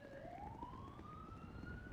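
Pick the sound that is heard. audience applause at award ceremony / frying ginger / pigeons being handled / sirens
sirens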